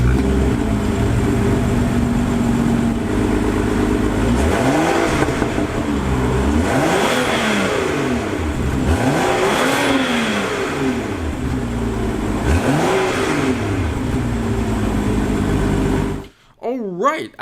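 A 2017 BMW X6 engine idles, then revs repeatedly, the pitch sweeping up and down in several loud, close bursts, before cutting to near silence at the end.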